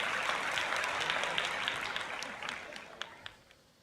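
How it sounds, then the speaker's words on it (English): Broad, hissy clapping from a group that fades gradually over a few seconds, with some isolated crisp claps near the end. "That deserves a round of applause."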